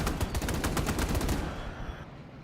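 Rapid machine-gun fire from the Cold War strategy game Gone Hot 1968, a fast stuttering burst of shots that rattles for about a second and a half, then cuts off into fading echo.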